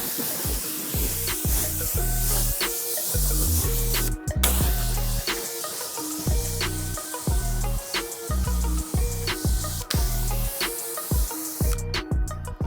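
Steady loud hiss of a pressure water spray rinsing a car, continuous with brief interruptions and rhythmic clicking throughout.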